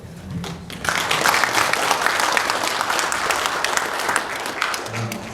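Church general assembly crowd bursting into applause for pastors being greeted: dense, loud clapping from many hands starts after a brief pause and carries on evenly to the end, with little talk.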